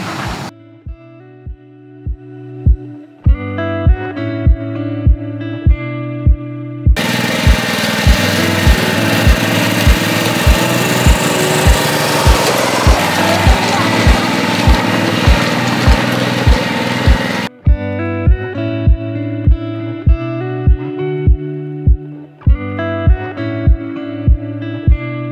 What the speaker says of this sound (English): we need to go ahead and give it its first mow